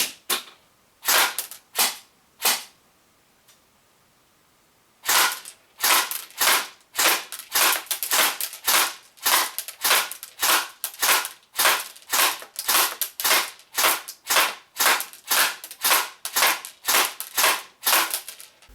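Golden Eagle MCR LMG airsoft AEG firing 0.2 gram BBs at a 10-meter accuracy test: a few spaced single shots, a pause, then a long string of sharp rhythmic snapping shots, close and crisp.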